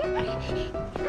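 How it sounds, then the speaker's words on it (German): Outdoors, a dog yips and barks in short, high bursts at moderate distance over a steady background. "Ein Hund!"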